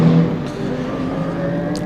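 A GT race car runs at Donington Park, its engine note holding a steady, fairly loud tone through a brief moment with no voices.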